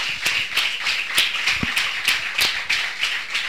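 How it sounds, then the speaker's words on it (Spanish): A church congregation claps together in steady, fairly even rhythm, sharp hand claps repeating about three times a second for several seconds, loud and close, with no talking over them. "Denle una ofrenda de aplauso al Señor."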